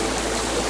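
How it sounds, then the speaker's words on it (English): Water cascades steadily from sculpted fish mouths into a rectangular pond fountain, making a continuous, close, broadband splashing rush with no talk. "The water gently cascades from the mouths of sculpted fish"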